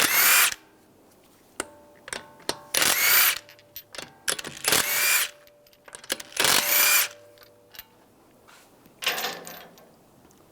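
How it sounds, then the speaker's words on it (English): An impact tool spins lug bolts out of a wheel on a Dodge Dart in repeated loud bursts of a few seconds each, with brief quiet gaps and metallic clicks of sockets and bolts between. "Take the lug bolts out."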